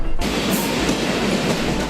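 A freight train rolls through a busy container port complex, giving a loud, steady rumble with rhythmic clickety-clack of the wagons, close by and without talk.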